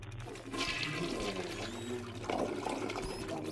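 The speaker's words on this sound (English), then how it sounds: "I just heard the toilet flush" A toilet flushing in a building during a ghost-hunting game, a rushing gurgle of water swelling and draining over a few seconds, fairly faint against the background.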